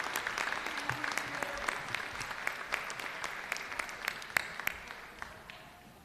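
A seated audience at a New Hampshire House public hearing claps to welcome a 4th grade class, steady moderate applause with sharp individual claps, slightly distant and tapering off toward the end.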